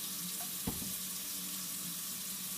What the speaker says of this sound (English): Because we're conserving water, we'll just turn it down a little bit.